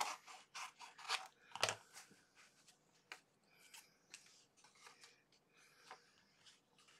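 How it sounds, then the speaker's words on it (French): Edges of an aluminium sublimation plate are trimmed with a cutter. Soft, close snips and scraping strokes come in an irregular run, with one sharper cut standing out, all quiet with no talking. "Là, j'allais couper un peu les bords pour être vraiment parallèle à"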